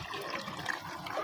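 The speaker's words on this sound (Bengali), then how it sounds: "এখন জল দিয়ে দিল" Water is poured into a pangas fish curry as it cooks, making a brief, soft splashing trickle that lasts just over a second.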